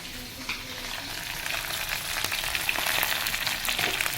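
Pork sizzling and frying in a pan as ginger, garlic and chili go in, a steady broadband crackle that builds slightly louder, with small stirring bumps and no talking.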